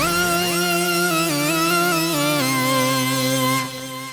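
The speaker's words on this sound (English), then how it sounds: "We've got pretty impressive lead sounds like this." An Arturia Matrix-12-V software emulation of the Oberheim synthesizer plays a bright, harmonically rich lead line, stepping through sustained notes with a glide at the opening, loud and alone, fading slightly at the end.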